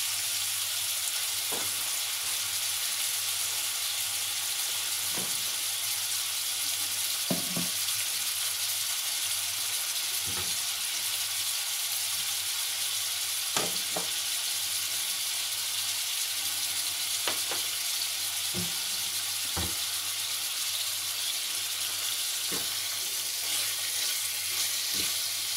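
Chicken sizzles in a frying pan with a steady close hiss, broken by a few scattered clicks and pops from stirring.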